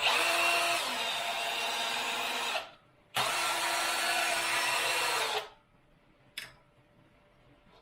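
A CNC-converted manual mill (HM48 / MH28V type) driven through its axis travel gives steady loud motor and servo whine in two long sustained runs separated by a short pause, then stops, with a brief faint burst afterward.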